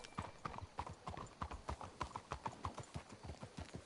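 Horse hooves clip-clop in a steady, even rhythm in the video game Red Dead Redemption 2, a close, clear gait that carries on alone with no voices.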